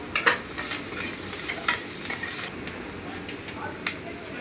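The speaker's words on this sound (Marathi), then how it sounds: "आता हळद टाकल्यानंतर थोडेसे सर्व जिन्नस परतून घेऊ" Ingredients stir-fried with turmeric in a pan for a quick snack made with crumbled chapati, giving a steady soft sizzle with scattered scraping stir clicks, close and moderately quiet.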